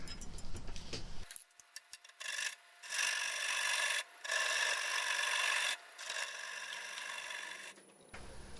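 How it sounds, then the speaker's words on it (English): A 3/8 bowl gouge roughs out a live-edge black walnut bowl on a lathe, a continuous hissing scrape in several long passes with brief gaps between cuts, close and moderately loud, with no talking. "I switched to using a 3/8 bowl gouge to rough most of it out"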